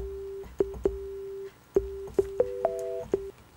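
Yamaha Reface DX synthesizer set to a pluck patch with short decay, playing a sparse run of seven or eight clipped single notes that each start sharply and die quickly, close and clean with no talk.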